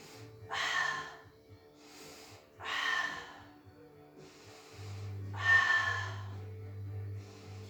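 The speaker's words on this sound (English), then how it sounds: "Breathe." During a pilates class, slow, deep breaths come in three distinct rushes, each a soft, breathy exhale spaced a couple of seconds apart, close and quiet, over a faint low background hum.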